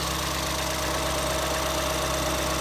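A 2014 Ford Escape's 1.6L engine runs steadily after a head gasket replacement, a close, even idle hum with a faint rhythmic tick, heard alone without talk.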